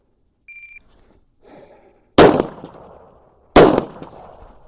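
Two sharp, loud gunshots from a Beretta M9A4 pistol at a shooting range, a little over a second apart, each with a short ringing tail, preceded by a brief beep and faint rustling.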